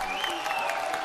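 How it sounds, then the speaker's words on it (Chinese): A studio audience claps at a televised dating show, giving steady, moderately loud applause throughout with faint voices mixed in. "掌声有请一下"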